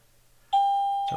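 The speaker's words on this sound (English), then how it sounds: "All right, that's the doorbell." A doorbell sounds once indoors, a clear two-tone electronic chime starting about halfway through and ringing on steadily to the end after a quiet lead-in, with a brief bump of noise at the close.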